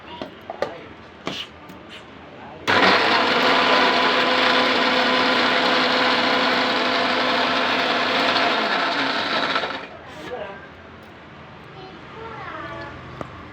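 A mixer grinder whirs loudly and steadily for about seven seconds grinding raw ginger chutney with a little water, then winds down, with brief clattering and faint voices before and after.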